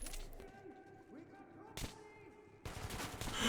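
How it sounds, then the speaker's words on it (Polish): Gunfire from the video game Metro Last Light, bursts of rapid shots with sharp cracks and a couple of louder blasts, under occasional faint voices. "Ale strzela na oślep, gościu."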